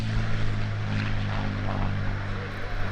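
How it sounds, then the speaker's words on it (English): Warbird propeller planes, a Spitfire and a P-51C Mustang, at an airshow: a loud, steady droning engine hum with strong low harmonics, sustained throughout without speech. "And the Spitfire is now joined by a P-51C Mustang"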